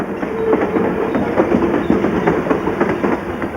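A passenger train runs steadily on rails in rural Australia, a loud, continuous rumble with rhythmic clickety-clack from the wheels and no voices.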